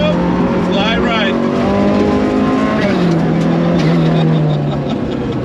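A rally car at speed on a track, sliding through a long left sweeper: a loud, continuous engine roar whose pitch wavers and shifts with throttle and gear changes, and tire noise, while a co-driver calls notes over it.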